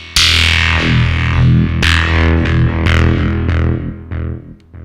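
Thorn VST synth plugin with the high quality option switched on, playing a short run of bright, distorted, effect-laden synth stabs, each with a sharp attack and a decaying tail, loud and alone.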